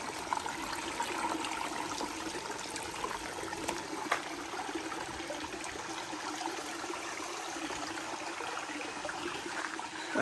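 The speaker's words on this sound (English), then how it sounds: "there is a waterfall, a tiny one" A tiny waterfall on the Tantalus Arboretum jungle trail on Oʻahu, Hawaiʻi, gives a steady, soft trickle and splash of running water that holds even and unbroken throughout, with no voices present.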